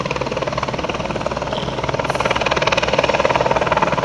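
A helicopter inspecting power lines chops steadily and loudly throughout, a continuous rhythmic thumping with engine whine that grows slightly stronger toward the end.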